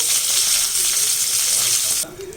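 Mustard seeds, a dried red chili and curry leaves tempering in hot oil for thoothuvalai thuvaiyal give a loud, close, continuous crackling sizzle that drops sharply in level near the end.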